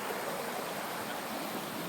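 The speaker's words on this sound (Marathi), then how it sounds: "हा जंगलातला नैसर्गिक ओढा या ठिकाणी आपल्याला दिसतो हे पाणी खाली नदीला जाऊन मिळणार आहे" A small natural stream flows through a forest with a steady, even rushing and babbling of water, continuous and moderately close, with no voices.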